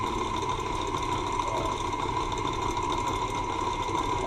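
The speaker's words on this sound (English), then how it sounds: "I'm going to turn it up a little bit. Kick it up a notch. Because you want to get air whipped into this really good." An electric mixer whips a gelatin mixture at raised speed, giving off a continuous close motor whir that holds steady throughout with no talking.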